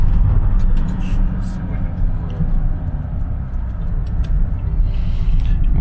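Car driving along the Poltava highway near Chisinau, a steady low road rumble and engine drone heard from inside the vehicle, with someone talking over it.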